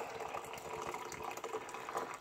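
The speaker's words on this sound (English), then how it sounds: "Pouring up my first cup." Black Rifle Coffee being poured into a large mug makes a steady, close liquid trickle and splash that runs continuously for a couple of seconds, fairly quiet and with no talking.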